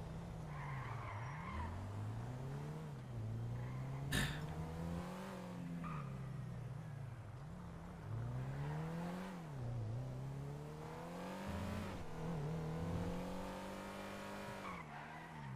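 Car in the video game GTA V roleplay driving hard, its engine revving up and down in repeated waves with tire squeals and skids, mixed under the game audio with no speech.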